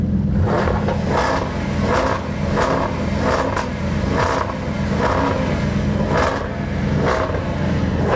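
At a supercar weekend burnout event, a Jaguar F-type V8 revs hard against its rev limiter, giving a loud, close rumble with a rhythmic series of roughly a dozen pulsing bursts.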